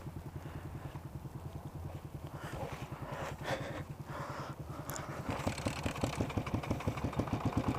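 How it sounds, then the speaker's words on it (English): A dual sport motorcycle engine catches after a kickstart and settles into a steady, rhythmic idle close by, its low thumping pulses growing slightly louder toward the end. "She can kickstart a bike."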